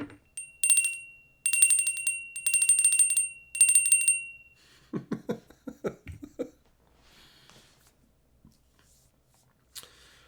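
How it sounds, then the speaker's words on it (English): A bicycle bell rings in four quick clusters of bright, repeated dings, close and clear, followed by softer handling clicks, rustling and faint scrapes in an otherwise quiet space. "Venom, do I have a bell on my bike?"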